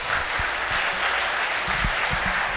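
An audience at a university conference claps steadily for a few seconds. The sound is a dense, even patter of many hands, close and fairly loud, with no speech over it.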